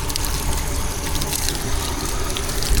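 Hot water pours steadily from a bucket in a dense, unbroken gush lasting about three seconds, loud and close, with no talking.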